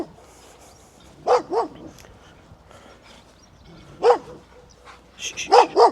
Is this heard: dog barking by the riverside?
yes